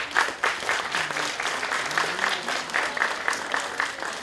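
Round of applause from an audience at a Manav Seva Association fundraising event, steady mid-level clapping from a sizable crowd with rhythmic individual claps standing out, sustained throughout with faint voices mixed in.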